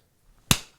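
A single sharp hand clap rings out close and alone in a quiet room, marking a camera restart during a talk show recording.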